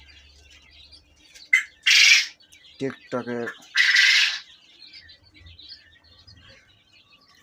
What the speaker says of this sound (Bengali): আমাদের এটা সতেরো দিনের কোয়েল পাখি